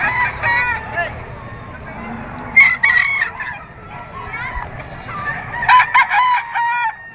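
Bull stag roosters crow repeatedly at the Padre Garcia auction market in Batangas, several birds overlapping with clucks and crowing bursts near and far amid a busy crowd murmur.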